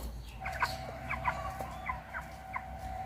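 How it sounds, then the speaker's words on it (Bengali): Three chickens cluck in short, scattered bursts close by, several quick calls spread across the moment over a faint steady hum. "তো এখানে তিনটা মুরগি আনছি"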